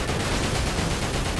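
Dense, continuous gunfire from the video game Dirge of Cerberus: Final Fantasy VII, a loud, steady barrage of overlapping shots with no gaps and no voices.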